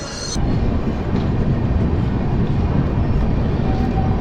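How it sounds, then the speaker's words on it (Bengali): Saraighat Express passenger train running at night after leaving Malda station, a steady, loud low rumble of wheels and carriage noise that holds constant throughout with no voices. "মালদা স্টেশন থেকে আমাদের ট্রেন ছেড়ে দিল রাতে"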